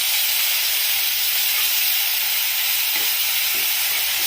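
Onion chili paste frying in hot tempering oil for a spinach curry, a loud, dense, continuous hiss of sizzling throughout, with no voices.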